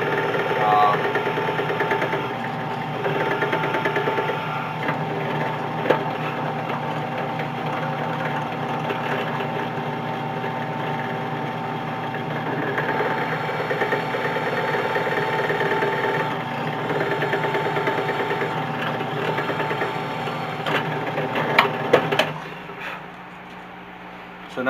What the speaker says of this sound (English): So we'll take this over to the drill press.